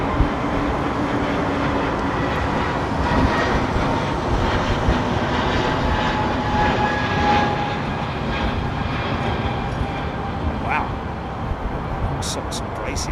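Aircraft engine roar at London Heathrow Airport, a steady broadband rumble running throughout, with voices talking over it.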